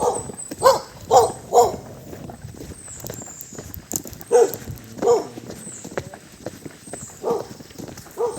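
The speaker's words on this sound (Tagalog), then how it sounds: "may alagang aso rito." A pet dog barks near a roadside by a highway: several sharp, fairly loud barks come in irregular bursts, close by, with faint footsteps between them.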